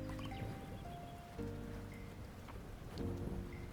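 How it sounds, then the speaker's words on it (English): Rainy-day ambience in the video game Fields of Mistria, with soft, steady rain patter forming a quiet, continuous wash and faint tonal game sounds drifting over it, no talking. "The rain day sounds are so relaxing to me."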